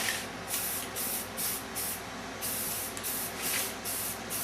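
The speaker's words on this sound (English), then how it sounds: "take our primer, shake it up real good, and we'll spray these down" A shaken spray can of primer hisses in repeated short bursts onto kitchen cabinets, each spurt lasting about half a second, steady and close, with no voices.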